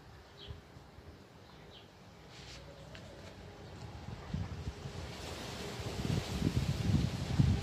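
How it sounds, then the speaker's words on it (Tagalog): Wind roars across an open shoreline, blustery and rumbling, building steadily louder toward the end with surf washing in the background. "Lakas ng hangin."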